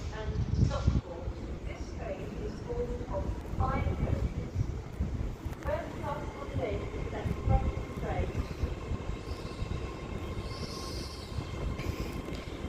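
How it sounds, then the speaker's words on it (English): An Avanti West Coast class 805 unit pulling into Birmingham International station on the West Coast Main Line, a rumbling approach with a rising whine and brief metallic squeal as it slows, heard over platform talk. "Now arriving in is going to be the 11:36 Avanti West Coast service to Birmingham New Street from London Euston"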